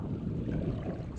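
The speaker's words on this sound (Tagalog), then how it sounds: "Mahangin" Wind gusting along a rocky shoreline in Samar during shore casting for snapper, a brief, steady low rumble buffeting the microphone with no voices.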